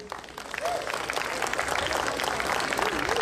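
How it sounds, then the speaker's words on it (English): An audience at an opening ceremony claps and cheers steadily, a dense wash of applause with whoops and voices mixed in. "Give them a big round of applause."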